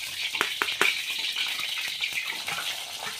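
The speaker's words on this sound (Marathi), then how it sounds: "शेंगदाण्याचं कूट बघा मी टाकलेलं आहे कढईमध्ये. छान असं फ्राय करणार आहे." Crushed peanuts fry in hot oil in a kadhai, giving a steady close sizzle with a few sharp crackles and stirring clicks early on before settling into an even hiss.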